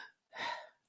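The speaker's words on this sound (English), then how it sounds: "And that's when I breathe." A single quick breath is drawn in between spoken phrases, short and soft, with no words around it.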